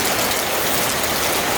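Steady rain falls on a backyard garden during the first rainfall after a long dry spell, a dense, continuous hiss of drops with no breaks and no voices.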